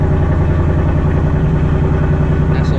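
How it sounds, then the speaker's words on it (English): A Ford Mustang S650 idles after a cold start, a loud, close, steady low rumble with a deep exhaust note and an even throb throughout. "Nice little cold start, man."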